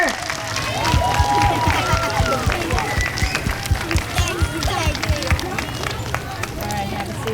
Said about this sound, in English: Let's give our 5th graders one more round of applause for all their hard work.